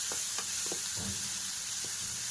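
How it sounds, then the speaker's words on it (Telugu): Masala powder sizzling and frying in a pan for a prawn and egg curry, a steady broadband hiss with a few soft stirring scrapes, close and continuous with no talking. "మసాలా పౌడర్ వేసిన తర్వాత మళ్ళీ ఒకసారి బాగా కలుపుకోవాలి. ఇది కూడా బాగా ఫ్రై అవ్వాలి."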